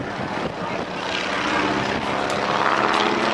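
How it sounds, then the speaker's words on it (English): A stunt airplane performs a four-point hesitation roll at the 2008 NAS Oceana airshow, its engine a loud, continuous drone that swells slightly as the manoeuvre goes on. "as John goes into this four-point hesitation roll"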